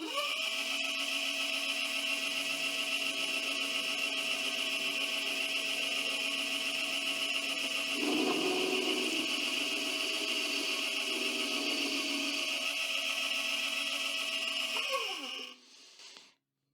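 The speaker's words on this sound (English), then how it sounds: "I'm just going to sort of take the tool slowly across on a spring pass" A mini lathe runs with a steady high whine and hum while the tool makes a slow spring pass across the workpiece face, with a brief rougher cutting texture midway before the motor winds down and stops near the end.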